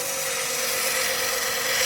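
A pen turning on a slowed wood lathe is sanded with a steady, even hiss of abrasive rubbing against the spinning wood, close and continuous with no pauses.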